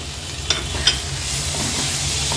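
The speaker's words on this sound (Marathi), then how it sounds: "आणि तो पण छान हाय फ्लेमवरच ह्याला परतून घ्यायचा आहे" Finely chopped tomato frying over high flame in oil with spices for a dhaba-style chicken masala, a loud continuous sizzle with two brief spoon scrapes, with no talking.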